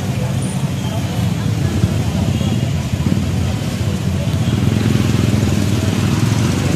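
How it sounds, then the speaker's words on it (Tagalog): A motorcycle on a city road near Tondo Complex in Manila, heard during an ambulance transfer. Its engine drones steadily and close, mixed into continuous traffic rumble throughout. "Ah, may nakaharang pa rito ng motor."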